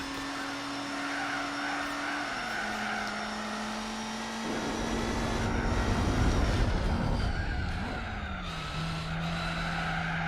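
A BMW M3 and a 1960s Mercury Cougar race in Gran Turismo 4, steady engine drone with shifting pitch and gear changes, tires squealing faintly through the middle, continuous and close.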